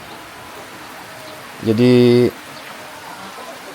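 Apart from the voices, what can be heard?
rain falling outdoors during FPV drone flight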